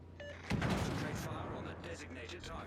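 Naval guns fire in World of Warships: a deep boom breaks out after a short pause and rumbles away over the rest of the clip, with a voice speaking over it.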